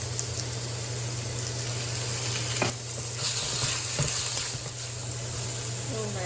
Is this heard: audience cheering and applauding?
no